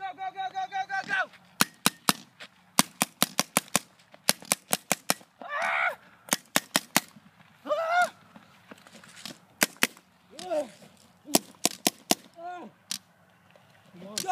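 Rapid bursts of video game gunfire in a combat game, sharp cracks fired in quick volleys with short gaps, mixed with shouted voices and brief honking calls between shots.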